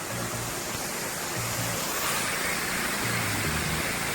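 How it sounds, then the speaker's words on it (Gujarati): The Shivghat waterfall near Ahwa, Gujarat, roars in a steady, broad rush of falling water, constant and loud with no voices. "સરસ મજાનો ધોધ પડે છે"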